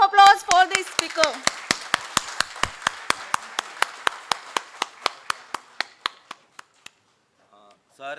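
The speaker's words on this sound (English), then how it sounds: "A huge round of applause for the speaker." Applause at a professional branch event in Vasai: a voice briefly at the start, then a steady run of evenly spaced, fairly close claps that thin out and fade to silence.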